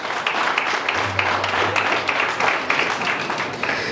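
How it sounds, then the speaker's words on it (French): Applause breaks out from an audience at a political rally, a dense wash of clapping that holds steady and fairly loud for several seconds with no speech over it. "Ça mérite applaudissements."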